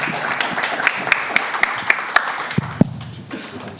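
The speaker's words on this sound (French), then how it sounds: "Peut-être on leur donne un petit applaudissement avant de commencer." Audience at a French-language talk on Syria giving a short round of applause: a light, scattered patter of handclaps with a few sharper individual claps, moderately loud and fading out.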